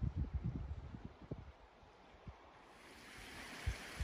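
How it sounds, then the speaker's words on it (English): Sea waves at Pinhay Bay on the Jurassic Coast, calm water after winter storms, washing gently onto a rocky beach with soft rolling surf and occasional low thumps over a steady outdoor wash. "The sea's really settling down now."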